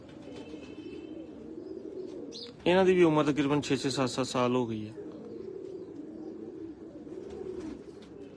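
Teddy pigeons from a breeder's loft cooing in low, steady murmurs underneath someone speaking loudly at close range.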